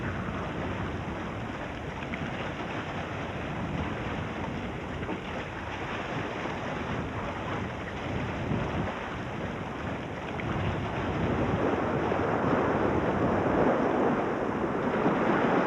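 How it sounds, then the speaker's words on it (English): Storm-driven waves battering the shore of a high-altitude lake in Ladakh, a constant loud roaring wash with wind that grows heavier toward the end. "the buffeting waves of Somarari are too strong"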